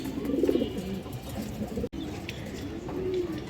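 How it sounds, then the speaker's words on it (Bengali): High flyer pigeons (Giribaz type) coo in soft, repeated rolling calls close by, a few birds overlapping against a quiet background. "পাল্লা করা কবুতর"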